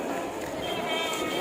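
A goat bleats at close range, its call blending into a busy, noisy background that runs through the whole short stretch.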